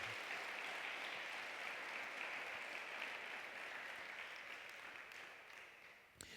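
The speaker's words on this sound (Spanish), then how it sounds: "Dale un fuerte aplauso al Dios de lo imprevisible." A church congregation applauds steadily and loudly for several seconds, the sustained clapping slowly thinning toward the end, with one sharp knock just before it stops.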